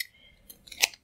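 A single close, sharp scissors snip cutting through thin wire while making beaded flowers, brief and quiet in a still room.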